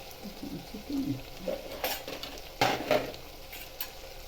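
Green chickpeas sauté in a pan and are stirred, giving a soft ongoing sizzle with a spoon scraping and tapping the pan at irregular moments, close and moderately loud.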